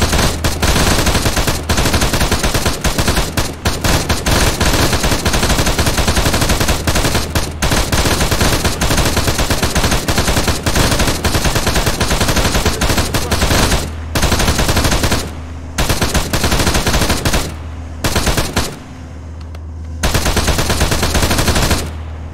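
Sustained, dense machine-gun fire and rapid gunshots fill the whole stretch at high volume. A few brief gaps break the bursts near the end, with no talking.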